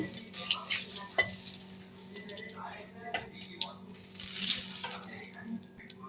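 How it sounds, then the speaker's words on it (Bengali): Bay leaf, a broken dried red chilli and cumin seeds crackle and sizzle faintly in hot oil, with light stirring and a few soft clinks. "তেল গরম হয়ে গেছে আমি তেলে ফোড়ন দেবো তেজপাতা একটা শুকনো লঙ্কা মাঝখানে ভেঙে দিয়ে দেবো জিরে ফোড়ন"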